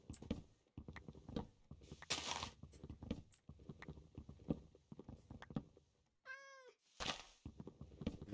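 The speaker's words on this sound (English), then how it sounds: "Cats? I despise cats." A cat in a block-building video game gives a single short, high meow midway through, set among clattering footstep-like game sounds and soft crunches.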